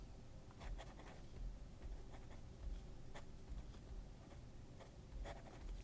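Scratchy strokes of a Rytec pen writing on paper, soft and close, with short irregular scrapes and ticks over a quiet background.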